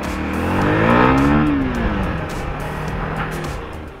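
An FKM 3GP motorcycle brakes hard, its engine note sliding downward as the tires skid and the ABS engages, loud and close over steady wind and road noise.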